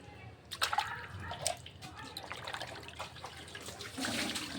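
A freshly cut large fish of about 4.5 to 5 kilograms is washed in water, with continuous splashing and trickling, running water and handling noises, close and moderately loud throughout.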